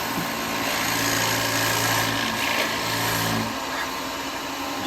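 A wood lathe spins steadily while a bowl gouge cuts a cowboy-hat form, giving a continuous motor hum with a steady scraping hiss that shifts slightly near the end.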